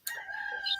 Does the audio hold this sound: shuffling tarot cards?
no